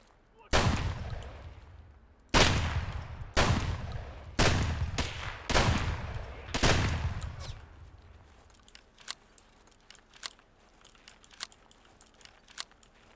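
Several loud, sharp gunshots fire one after another in a tactical shooter video game, with quieter clicks and shuffling sounds following after the volley.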